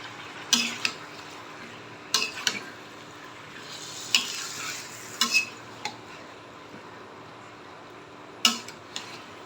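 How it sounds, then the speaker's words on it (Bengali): Spicy goat meat curry is stirred in a pot: a faint sizzle runs underneath while a utensil scrapes and clanks against the metal in irregular bursts, close and fairly quiet, no talking. "এইবার একটু লাড়াচাড়া করে দিই"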